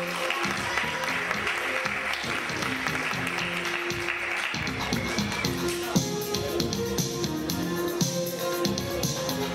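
Audience applause at a name-calling ceremony rolls on continuously beneath loud background music, moderately near and steady, with a few taps and shuffles mixed in.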